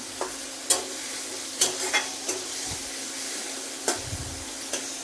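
Chili, onion and tomato frying in a pan give a steady close sizzle, broken by a handful of sharp spatula scrapes and clinks at uneven intervals.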